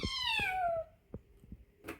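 A kitten, fairly big for its age, lets out one loud, long, falling meow close by, followed by soft scattered taps and a brief rustle.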